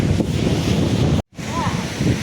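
Sea waves crash and roll on Dwarka beach while strong wind buffets the microphone in a loud, continuous roar, broken by a brief moment of silence partway through.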